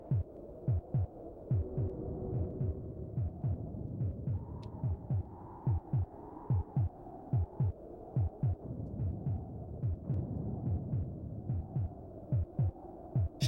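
Steady rhythmic heartbeat in the SNES game Populous, a low throbbing double pulse repeating about twice a second over a constant hum, with no voices.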